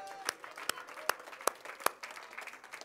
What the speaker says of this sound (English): Let's give the Lord and the worship team a clap offering.